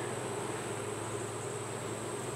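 Steady, continuous buzzing of honeybees in a hive, a dense hum with no breaks, close and moderately quiet.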